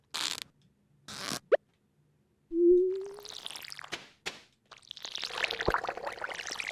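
Watering crops in the video game Stardew Valley, with a short rising whistle-like pour followed by a longer bright splashing, trickling burst of water, plus a few separate clicks and swishes, moderately loud with no talk.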